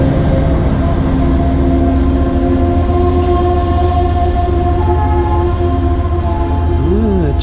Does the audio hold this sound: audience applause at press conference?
no